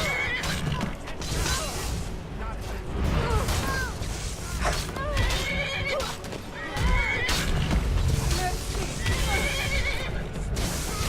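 A horse neighs and whinnies in Skyrim amid battle noise, with hoof clip-clops and creaking mechanisms in a busy, continuous game mix, and a voice talking over parts of it.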